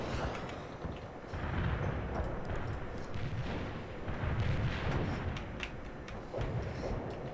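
Artillery fire rumbles through a World in Conflict battle, a dense, continuous roll of heavy booms and low explosions, loud and sustained, with no clear speech.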